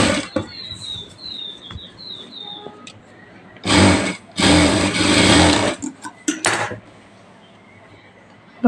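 A sewing machine runs a double line of stitching along a puffy blouse sleeve, with short loud whirring bursts separated by brief pauses and light handling noise.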